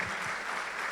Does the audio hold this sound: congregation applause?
yes